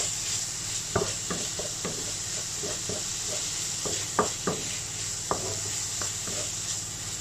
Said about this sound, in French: vous mettez les protéines de soja, l'oignon dans la même casserole et puis à feu moyen vif